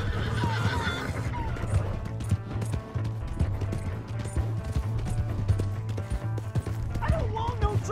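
A horse in the video game Red Dead Redemption 2 whinnies loudly and gallops with clip-clopping hooves, over tense background music and under talk from characters.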